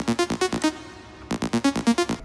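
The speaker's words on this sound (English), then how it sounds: "It's a very simple lead. We can show you how it sounds without any effects on it." A simple synth lead with no effects plays short, evenly pulsed notes in two quick bursts separated by a brief gap, dry and fairly quiet.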